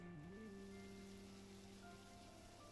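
Steady patter of rain in the game Necrobarista, a faint, even hiss with soft droplets continuing throughout under a low tonal background hum.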